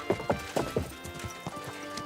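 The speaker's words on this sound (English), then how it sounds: "my horse isn't freaking out when I tell it to go fast in the city" Quick, evenly spaced hoofbeats clatter close by as a horse runs fast through a city street in Kingdom Come: Deliverance II, fading into a softer trailing patter.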